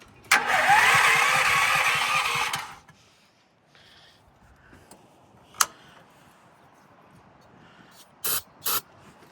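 A can of starting fluid hisses in one long spray for a couple of seconds. After a quiet pause an engine briefly catches with faint mechanical rattle and a few sharp clanks.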